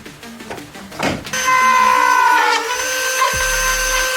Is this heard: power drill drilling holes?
yes